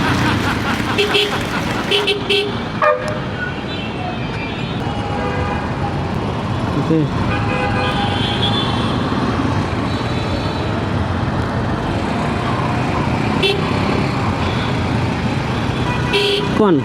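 Busy road traffic packed with CNG auto-rickshaws and cycle rickshaws, with a constant engine and road roar, repeated honking horns near and far, and someone talking over it throughout.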